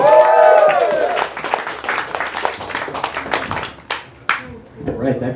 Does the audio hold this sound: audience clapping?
yes